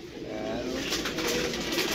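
Pigeons coo steadily in a low, continuous murmur against a constant rushing background, close by and fairly quiet, with no talking.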